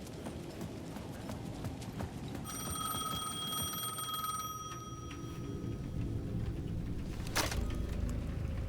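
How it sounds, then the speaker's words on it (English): A payphone rings at the edge of a plaza in the video game Alan Wake 2: one sustained, steady electronic ring lasting a few seconds over a low, constant ambient background, followed by a brief noisy burst. "The payphone at the edge of the plaza was ringing again."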